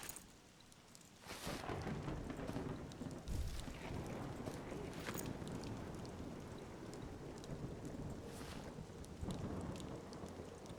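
Heavy rain pours steadily in the fantasy game Monsters & Memories, with deep rolling thunder swelling and cracking through it, the storm loud and continuous throughout with no talk over it.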